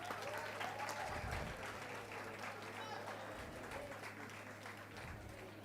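Audience applause at a university convocation ceremony, a soft, steady patter of clapping heard from a distance, with a low steady hum beneath it and brief low thumps.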